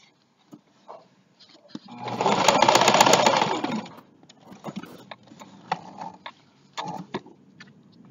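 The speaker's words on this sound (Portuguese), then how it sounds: "eu vou começar a costurar ele pelo lado do avesso" A sewing machine stitches bias binding onto a baby towel in a loud, continuous two-second run, followed by scattered clicks and light handling taps.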